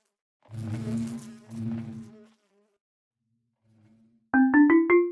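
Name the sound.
buzzing plutonium bees in Minecraft modpack ATM10, video game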